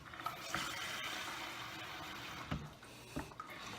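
Water poured into a container for making slime with a full bottle of Elmer's glue, a running, splashy liquid stream heard close with a few sharper splashes, no voices.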